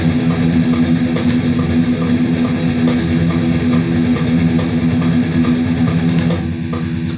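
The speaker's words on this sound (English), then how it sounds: "So when we start on a downstroke with a 16th note pattern, it will sound like this." Metal rhythm guitar playing tight 16th-note alternate picking that starts on downstrokes, a steady, loud, driven chug with no talking over it.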